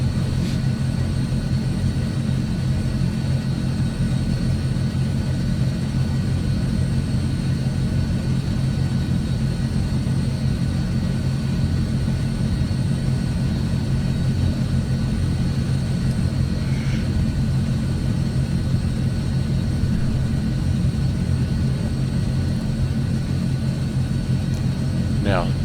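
A C-160 transport aircraft in Microsoft Flight Simulator 2020 taxis toward the runway, its engines giving a constant, loud, droning rumble with a steady tonal hum. The sound holds unchanged throughout, with no speech.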